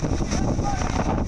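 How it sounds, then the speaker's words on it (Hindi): Strong wind roaring during Cyclone Yaas on the coast of East Midnapore, West Bengal, with a loud, continuous broadband rush that buffets the microphone and may hide crashing sea waves. "लहरों की आवाज और हवाओं का शोर सुनिए"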